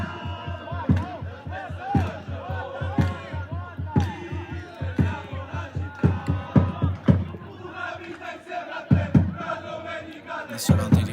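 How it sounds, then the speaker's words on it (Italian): Football fans chant and sing in unison in the stands at an amateur Eccellenza Sicilia match, a rhythmic crowd chant with steady drum-like beats, heard from a distance and filling the ground continuously. "Adesso cantano i tifosi."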